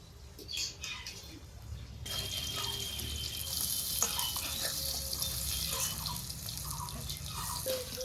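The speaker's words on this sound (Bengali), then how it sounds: "পকোড়া ভাজা হয়ে গেছে" Pakoras sizzle as they fry in hot oil in a kadai. A steady, fairly loud hiss starts about two seconds in and continues, with no voices.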